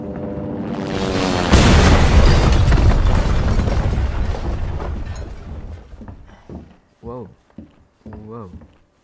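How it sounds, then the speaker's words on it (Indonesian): A loud, roaring explosion in the video game Resident Evil 2 bursts and rumbles for several seconds before fading, followed by a few short spoken exclamations. "Meledak begitu saja."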